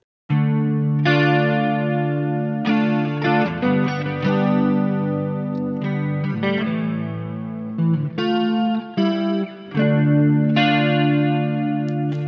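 Electric guitar through a Boss GS-10 effects processor, chords with a shimmering chorus and a wash of reverb, played steadily and fairly loud, with sustained ringing notes and occasional strummed changes.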